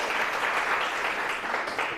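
A classroom audience applauds together, a dense, steady wash of clapping that holds at an even level for a couple of seconds without anyone speaking.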